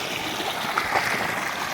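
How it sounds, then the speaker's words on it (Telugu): A steady, fairly loud rushing flow of water pours from a big pipe on a farm, a continuous stream with no pauses. "చూడండి పెద్ద పైప్ నుంచి నీళ్ళు వస్తున్నాయి"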